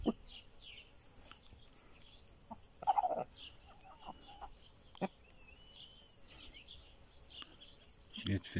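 Chickens cluck in short scattered bursts around a rooster named Jilet in a poultry yard, with a louder clucking burst near the middle and another at the end over a low background.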